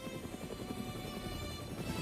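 A military helicopter hauling supplies and artillery to remote positions beats out a steady, rapid rotor thump that stays even and moderately loud throughout.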